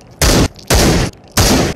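Three loud, booming shotgun blasts from the video game Into the Radius, aimed at a propane tank, come in quick succession, each a heavy burst with short gaps between them.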